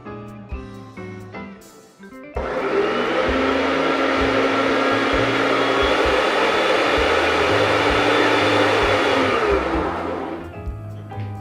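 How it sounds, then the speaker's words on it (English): A countertop blender whirs loudly and steadily for about eight seconds as it purees summer pesto, preceded by brief handling clatter and winding down at the end. "And now we're going to give it a blend"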